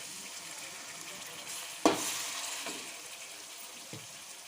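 Noodles fry in a pan with a soft, low sizzle, broken by a sharp clatter of stirring near the middle and a smaller knock toward the end.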